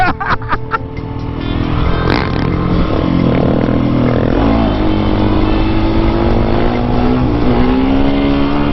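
A Husqvarna 701 motorcycle revs hard during a power wheelie, the engine note climbing steadily through a gear in a loud, sustained roar that is close to the recording point and sounds like it is heard from the rider's position.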